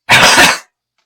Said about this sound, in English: This cough is going to kill me.